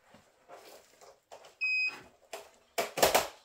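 A no-name ultrasonic cleaner gives a single clear electronic beep, about a quarter second long, as it is plugged in, with soft handling noises around it and a louder clatter right after.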